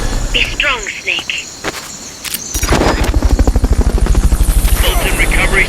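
Helicopter rotors in Metal Gear Solid: Peace Walker thump in a fast, steady rhythm, building up after some chirping electronic sounds and clicks.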